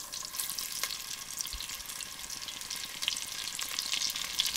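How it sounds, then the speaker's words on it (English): Lightly coated beef tenderloin searing in a hot pan, giving a steady, close, hissing sizzle with a few soft crackles and no talk. "In goes the next batch of lightly coated meat."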